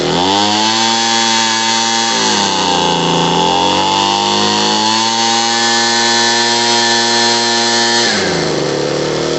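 A Homelite 26b leaf blower's two-stroke engine screams at full rev, loud and steady and close by, sagging briefly twice before climbing back to a high whine. No one talks over it.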